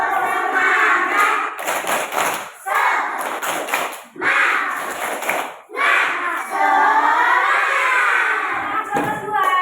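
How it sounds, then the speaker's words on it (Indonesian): A primary school class in Indonesia does a rhythmic spirit-clapping chant, with loud group voices and bursts of claps coming in several waves. The sound is close and fills the room. "Supaya lebih semangat lagi, boleh kita tepuk semangat ya."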